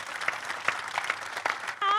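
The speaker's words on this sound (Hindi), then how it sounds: "हम सब मिलकर तालियां बजाते हैं" Brief audience applause at an Independence Day celebration event, a short burst of clapping that ends abruptly as a voice begins.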